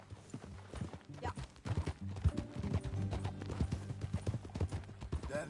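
Rhythmic hoof clip-clops of a horse moving at a steady walk in Red Dead Redemption 2, fairly close, with low music and some background sounds underneath.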